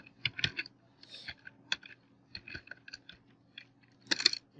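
Quick bursts of clicking keys on a computer keyboard, typed in short irregular clusters with brief pauses, close by and fairly quiet in an otherwise silent room, with a denser flurry of keystrokes near the end.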